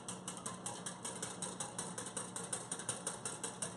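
A stainless whisk beats a flour mixture in a small glass batter bowl, giving a fast, steady rhythm of close scraping ticks with no talking.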